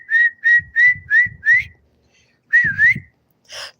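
A person whistles a series of short, clear notes, five in a row, then a pause and a rising, warbling whistle.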